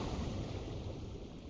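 Synthesized water from a particle emitter in sound design software, a steady dense wash like surf or rushing water that fades out at the end, with no voices.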